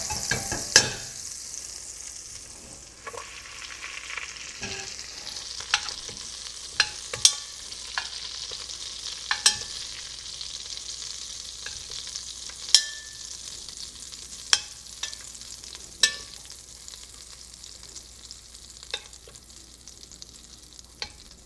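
Butter melting in a hot pan for French onion soup, giving a steady soft sizzle with scattered sharp crackles and pops, close and alone with no talking.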